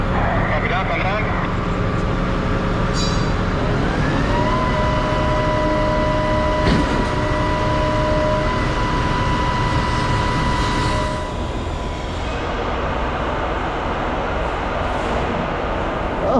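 A pump switched on during a slick-prime test, a loud steady mechanical drone with tonal whine and a rising pitch as it spins up, running continuously under voices.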